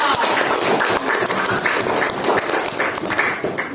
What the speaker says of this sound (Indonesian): Tepuk tangan untuk kelompok ketua.